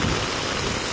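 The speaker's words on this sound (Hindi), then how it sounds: "यहाँ पर देख सकते हैं बहुत ज़ोरों से बारिश हो रही है।" Heavy rain pours steadily across a college campus near hostel buildings, a dense, unbroken hiss of downpour filling the whole moment with no voices.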